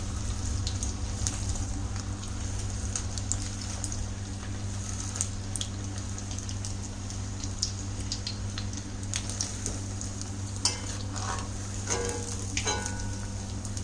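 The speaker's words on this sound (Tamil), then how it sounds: "இது நான் நல்லா ஹை ஃப்ளேமில் வச்சு ஹை தீயில் தான் பொரிச்சு எடுத்துகிட்ருக்கேன்" Deep frying in oil over a high flame, with a steady broad sizzle and bubbling hiss that runs unbroken throughout, plus a few brief clinks and scrapes near the end.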